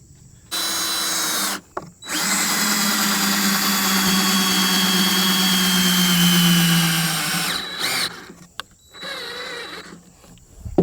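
A power drill drives big lag screws into wood while building a goat toy, with a long sustained whirring run of several seconds, then short stop-start bursts as the screw seats, close and loud.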